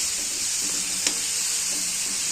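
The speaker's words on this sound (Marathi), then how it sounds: "आणि असं छान परतून घ्यायचं." Wild village mushrooms sautéing alone in a pan without onion or coconut, giving a steady hissing sizzle with a brief clink of a spoon partway through, close and even.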